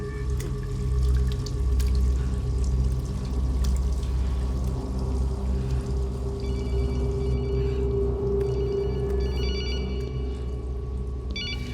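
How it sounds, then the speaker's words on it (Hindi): A telephone rings in repeated electronic bursts over a steady background hum and running-water-like noise, with no talking. "रितु, तुमने मुझे इस नंबर पे फोन क्यों किया?"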